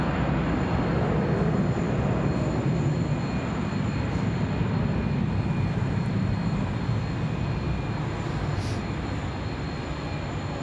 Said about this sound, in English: Sichuan now cleared for takeoff. Rolling 16 right.